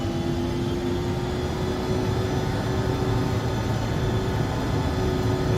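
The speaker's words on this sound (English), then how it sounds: "Takeoff power is set." Embraer E145 jet engines spooling at takeoff power in X-Plane 11: a steady, loud, continuous roar with a sustained whine, unchanging throughout, with no voices.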